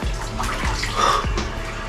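Cold water runs hard from a tap in a steady, close splashing rush that fills the short stretch without pause.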